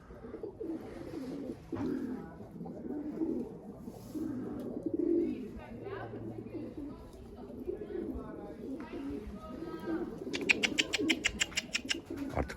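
Tumbler pigeons coo in low, soft repeated phrases, fairly close, mixed with a few chirps and wing flutters near the end, while someone talks intermittently over the birds.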